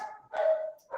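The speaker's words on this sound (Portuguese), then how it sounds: "eu peço desculpa pelo barulho dos meus cachorros" Several dogs in a home bark and yip in short bursts, fairly close, with a brief pause between volleys and another bark starting at the end.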